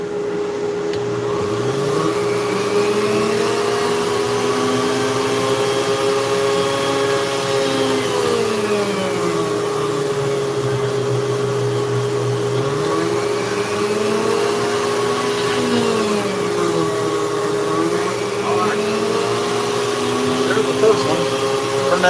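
A Dremel flex shaft rotary tool with a large carving bit grinds into wood for a bald eagle carving, giving a loud continuous whine whose pitch repeatedly drops and rises as the load changes, with talk over it.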